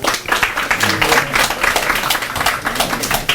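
A church congregation claps for an elder during a Sunday service, a short burst of brisk, fairly close applause from a modest crowd, uneven and lively throughout.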